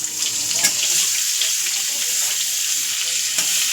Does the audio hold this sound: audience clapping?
no